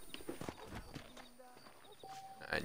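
Horse hooves clip-clop at a walk in the Red Dead Redemption video game, a light rhythmic run of soft hoof falls under quiet game sounds and faint background voices.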